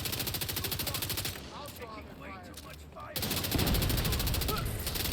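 Rapid automatic gunfire from The Division 2 video game rattles in sustained bursts, dropping briefly to quieter background action before a loud fusillade resumes, with a player talking faintly underneath.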